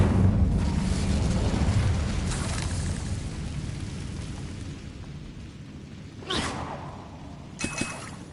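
A fire spell cast in a Harry Potter video game lets out a loud rumbling, roaring blast that fades slowly over several seconds, followed by two brief sharp crackles near the end.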